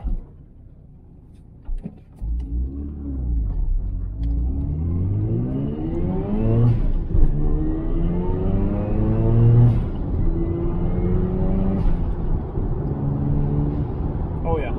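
A car fitted with a strut bar revs and pulls away, the engine note climbing steadily through several rising sweeps, fairly close, with voices heard at times over it.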